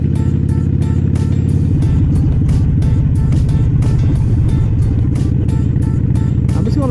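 Steady, loud motorcycle engine drone on a road ride, a rumbling throb with strong vibration that runs unbroken throughout, close to the rider with wind noise and no talk.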